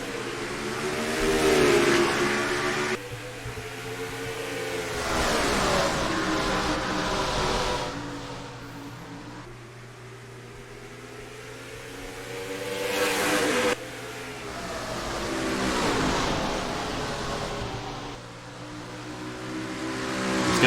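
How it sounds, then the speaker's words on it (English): Race car engines roar and rev in the NR2003 racing game as the field takes the green flag at the Capital City 65K, loud rising and falling engine sweeps with cars passing in waves, no voices. "Dylan Young and Chris Reynolds lead us to the green flag, and we're racing in the capital city"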